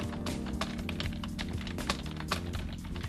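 Someone typing a message on a computer keyboard, a quick irregular patter of clicking keys, close and fairly quiet, with a few heavier taps mixed in.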